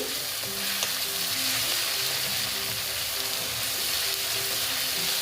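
Onions and spice paste sizzle steadily in a pan for a spicy egg curry being cooked in a large batch of sixteen eggs. A loud, continuous frying hiss carries light stirring scrapes throughout.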